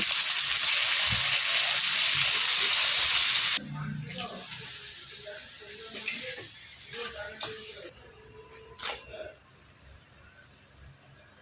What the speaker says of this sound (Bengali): ইলিশ মাছ ধুয়ে নুন হলুদ মাখিয়ে রেখে দিয়েছি। এখন ফটাফট ভেজে নেবো।